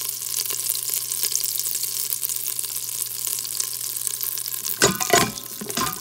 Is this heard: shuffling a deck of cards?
no